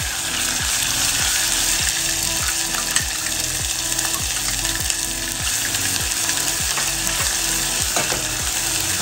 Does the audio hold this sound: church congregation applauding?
no